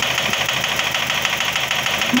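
Toyota Vios engine idling close up with an internal knock, a steady loud mechanical hum with faint repeated tapping running through it, no voices.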